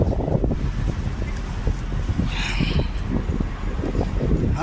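Strong wind buffets and roars across the microphone in steady, gusty bursts, loud and close, with no one talking.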